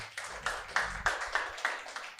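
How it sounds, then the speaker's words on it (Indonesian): A church congregation at a Sunday worship service in Bogor claps for Jesus in a few strong, rhythmic unison claps, close and punchy with brief gaps between them. "Tepuk tangan buat Tuhan Yesus"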